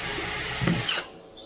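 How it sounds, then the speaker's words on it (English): Power drill boring a hole into an aquarium air line on a fish-tank blower setup, a single short, close whirring burst that grinds for about a second and then cuts off sharply. "Drill a hole."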